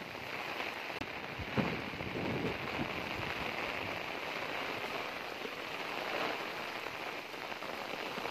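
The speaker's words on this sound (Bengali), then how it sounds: "অনেক বৃষ্টি।" Heavy rain pours steadily over farm fields, a dense continuous hiss of drops drumming on surfaces, with a few louder splashes early on.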